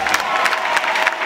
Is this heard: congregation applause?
yes